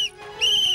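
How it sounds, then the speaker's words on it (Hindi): A shrill whistle sounds in short sharp bursts, a brief blast followed by a longer sustained one, loud and close. "मोटा भाई देखा, 3 बार सीटी बजाई"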